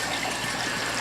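Water trickles steadily through the overflow plumbing of a home aquarium in a fish room, a soft, continuous wash of flow with no break and no voices.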